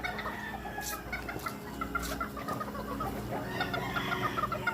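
Several chickens, lowered hens with fine plumage, cluck repeatedly in a farm scratch pen, with short overlapping calls and occasional louder squawks at close range.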